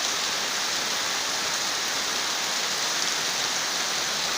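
Steady, dense rainfall pours down continuously, a loud, even hiss with no thunder and no voices, as real rain falls in windy weather.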